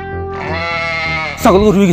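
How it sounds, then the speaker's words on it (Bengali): A goat lets out a long, wavering bleat up close, followed by a sharper, rising and falling cry at the end; nothing else competes with it. "আমার ছাগল খানো গেছে কি আমার ছাগল কি তুইছি রে"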